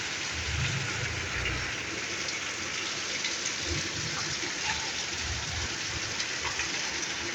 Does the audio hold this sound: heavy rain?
yes